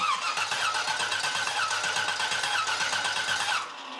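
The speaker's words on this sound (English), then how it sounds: "I disabled the fuel pump or disabled the ignition and turn the engine over." Car engine turning over on the starter with ignition or fuel disabled during a compression test, a steady rhythmic cranking pulse close and loud for nearly four seconds, then cutting off.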